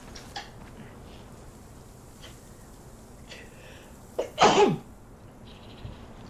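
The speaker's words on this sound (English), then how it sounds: "I'm dying from like sneezing" A single sharp sneeze bursts out close and loud near the end, preceded by a few faint clicks and small breathy noises over a quiet background.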